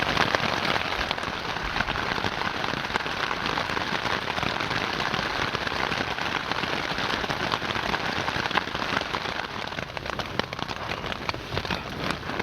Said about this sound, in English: you can hear that we're having quite a bit of rain at the moment